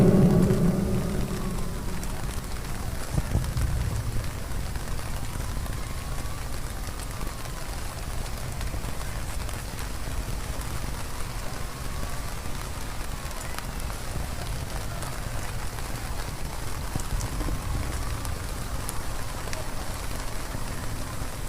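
Rain falls steadily in a constant dense hiss that lasts the whole stretch, with a faint voice at the very start.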